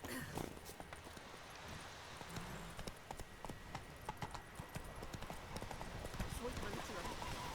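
Roach the horse's hooves clip-clop in a steady, brisk rhythm of close, sharp strikes throughout, from the Witcher 3 game, with a voice talking over them.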